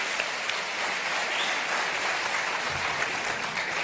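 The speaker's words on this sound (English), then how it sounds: "Give him a clap." Church audience clapping for a pastor's sermon, a steady, fairly faint wash of many hands applauding for a few seconds without speech over it.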